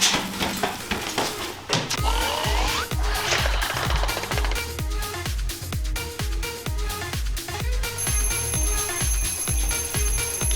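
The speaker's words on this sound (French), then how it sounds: "arrête l'alarme" An alarm clock rings in an animated cartoon home, sounding as a rapid, insistent repeating pattern of mechanical beats that continues steadily and loudly throughout, with a high steady tone joining near the end.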